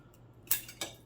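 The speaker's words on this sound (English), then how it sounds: "we are going to go ahead and trim all of these wicks" A wick trimmer snips candle wicks above the wax line, giving two sharp metallic clicks about a third of a second apart, close and crisp against near silence.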